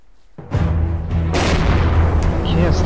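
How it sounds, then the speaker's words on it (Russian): A heavy boom bursts in, then a second deep blast rolls into a sustained loud rumble of howitzer artillery fire close by in a video game, with a voice underneath. "Это не РПГ, это гаубицы бьют"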